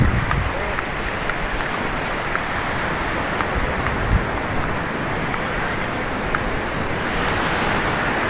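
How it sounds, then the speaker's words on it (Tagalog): Ocean waves roll at sea on a fishing trip, a steady broad wash of surf mixed with wind buffeting the microphone, loud and continuous with occasional knocks. "Ito ngayon, maganda alon ngayon yan."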